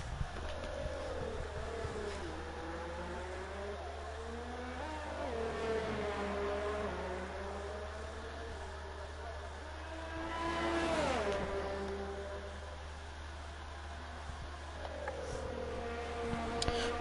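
An onboard race car engine on a hot lap in a racing game drones through gear changes, its pitch rising and falling repeatedly at moderate level, with no one speaking.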